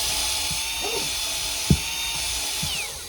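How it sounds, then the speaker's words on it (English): A handheld power drill spins briefly during a Miata engine build, whirring over shop background with a sharp clunk midway and a faint tail-off. "I just hooked it into the drill."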